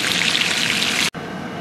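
Bacon fries in a crowded pan full of fat, a dense close hissing sizzle that cuts out briefly near the end and then resumes more quietly.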